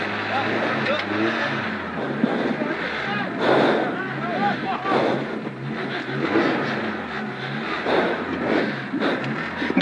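Rally car engine revving hard after a crash at the Rallye de Saintonge 2021, its wheels spinning freely without grip; a steady, loud drone with rising surges runs throughout, mixed with excited voices talking nearby.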